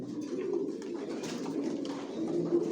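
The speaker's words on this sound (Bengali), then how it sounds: "আমার লফটে সব একই লাইনের কবুতর পালি" Racing pigeons in a loft, several birds giving low, overlapping throaty coos close by, continuous and fairly soft.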